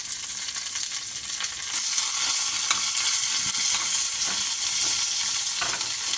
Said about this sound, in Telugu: మేతి కొంచెం, రెడ్ చిల్లీ కొంచెం ఫ్రై చేస్తాము. చిల్లీ కరియాపత్తా కూడా కొంచెం మళ్ళీ వేస్తాము.